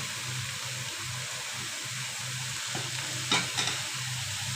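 Onions fry in salted oil for a prawn and tomato dopiaza, giving a steady close sizzle with a few stirring scrapes near the end and no voices.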